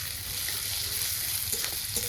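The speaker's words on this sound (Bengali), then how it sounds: "তেজপাতা শুকনা লঙ্কা গোটা দিয়ে গরম মশলা পেঁয়াজগুলো মেরে চেড়ে নিলাম" Bay leaves, whole dried red chillies, whole garam masala and onions fry in hot oil for a chicken curry, giving a steady, close, crackling sizzle with no talking.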